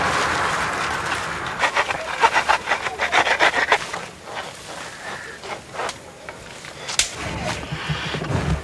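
Bamboo is scraped and pierced through its nodes to make a flute, producing rhythmic rasping, rubbing strokes that come in quick bursts and then ease into irregular scrapes.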